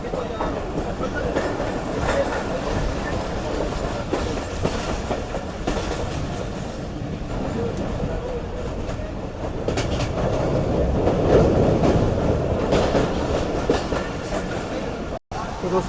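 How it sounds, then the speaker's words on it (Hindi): The Karakoram Express rolls along the rails with a continuous rumble and rhythmic clickety-clack from the carriage, heard from inside, steady and moderately loud throughout. "उछलती कूदती हुई ट्रेन जा रही है भाई हमारी बेहतरीन।"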